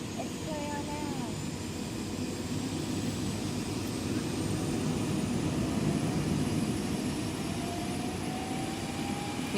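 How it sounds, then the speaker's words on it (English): Helicopter bound for Boston, taking off in Greenfield, Massachusetts: a steady, continuous rotor and engine roar that fills the whole stretch at moderate loudness, with no breaks. "This helicopter's going to Boston, Dartmouth."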